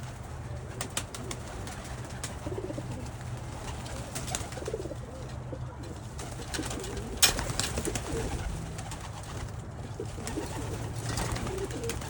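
Pigeons, including young birds, coo softly and repeatedly in a loft alongside a steady low hum, with no talk.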